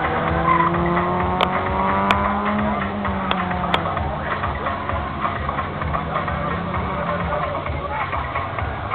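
A Peugeot 106 Rallye 8v rally car launches hard at a time attack event. The engine note climbs steeply in first gear, then drops as it shifts into second and revs again, loud and close, with a few sharp clicks.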